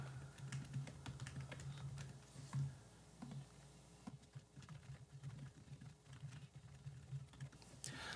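Someone types a prompt on a computer keyboard, a quiet, irregular patter of close key clicks in short bursts with small pauses, and no talking.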